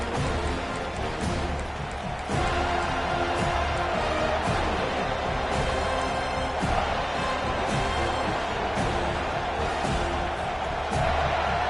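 A football stadium crowd roars behind the defense on third down, a dense, sustained wall of cheering and noise that swells steadily throughout, loud and continuous, with commentary blended underneath.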